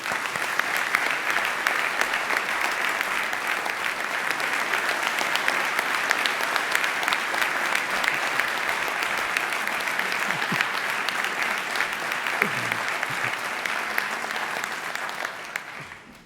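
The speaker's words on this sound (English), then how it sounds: "So would you please join me in one more round of applause for James?" A round of applause fills a university ceremony hall, steady and dense from many hands, holding for the full stretch before tapering off at the end.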